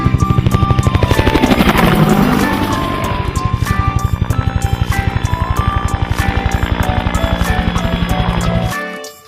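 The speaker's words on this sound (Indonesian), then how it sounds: "Ada mainan helikopter." A toy helicopter whirring with a fast, steady rhythmic chop of its rotor, loud and close, running continuously before cutting out at the end, with no talk.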